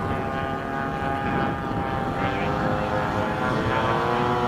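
Red Tail P-51 propeller aircraft on a landing approach at an airshow, its engine a steady loud drone with a rough, throbbing texture passing nearby, people talking faintly beneath it.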